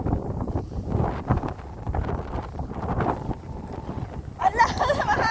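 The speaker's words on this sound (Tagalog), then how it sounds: "Tinatangay na ako ng hangin." Strong wind buffets the microphone on Kai Kung Leng ridge in Hong Kong, heavy irregular low-frequency rumbles and gusts throughout, rising with some rustling near the end.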